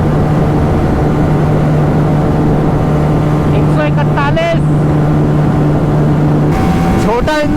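A Bajaj Pulsar 220F and a Yamaha R15 V4 race side by side, their engines droning loudly and steadily at high revs with a few rising gear-shift whines, while someone speaks over them.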